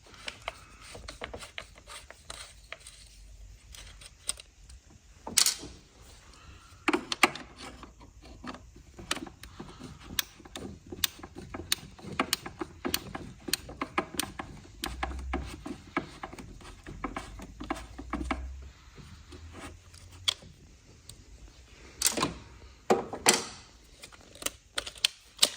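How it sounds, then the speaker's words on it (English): T25 Torx screws come out of a BMW N55 rocker cover in a series of sharp, uneven metallic clicks and ticks from a tool, close and fairly loud against a quiet background. "Undo these two T25 torque screws that hold the wiring in position."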